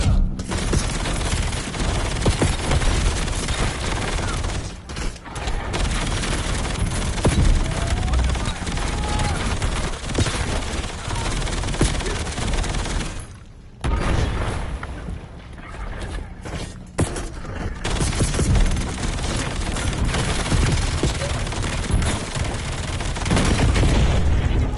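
Rapid, sustained gunfire from a weapon with its fire rate turned up pours out in the Black Ops 7 video game, dense loud bursts with booming impacts and only brief gaps, under steady game noise.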